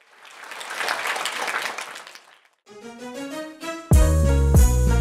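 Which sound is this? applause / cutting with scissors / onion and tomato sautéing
applause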